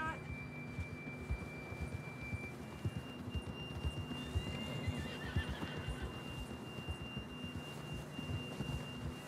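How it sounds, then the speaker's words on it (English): In the game Red Dead Redemption 2, a horse whinnies while hooves clop in a busy rhythmic stream, with a steady tonal hum underneath, moderately close. "John was riding that horse when we left Blackwater"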